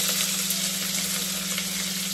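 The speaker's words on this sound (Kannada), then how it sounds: "ಇವಾಗ ಈರುಳ್ಳಿ ಹಾಕ್ತೀನಿ." Onions dropped into hot oil with popping mustard seeds sizzle and fry steadily, a close, continuous hiss with no talking.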